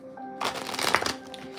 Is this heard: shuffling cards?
yes